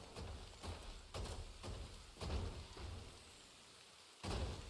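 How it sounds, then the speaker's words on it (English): Steady rain in a Ship of Fools video game session hisses on and on at low volume, with soft rumbling swells and pulses that suggest gusts or distant thunder. "The rain is subsiding."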